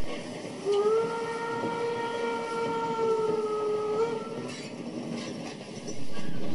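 Class 043 steam locomotive leaving the Braunschweig railway works sounds a long, steady whistle lasting several seconds, followed by rumbling running noise and a louder burst near the end, with no speech.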